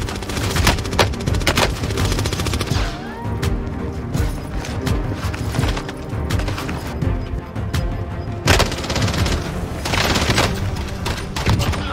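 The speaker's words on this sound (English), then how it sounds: "The Oden two-round burst is the worst weapon in the game by far" Oden two-round burst rifle firing in Call of Duty Warzone, loud rapid cracks and bursts of gunfire packed densely together, mixed with other weapons and booming impacts throughout.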